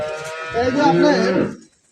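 A single cow moos once, a short close low call lasting about a second before fading out.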